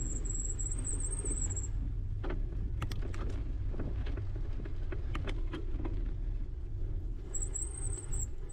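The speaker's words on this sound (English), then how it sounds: "my super squeaky brakes that have been super squeaky since I got the bike for some reason" Squeaky bicycle brakes on a cyclocross bike squeal in high, thin bursts near the start and again near the end, over steady wind and rolling tire rumble during a race at Magnuson Park.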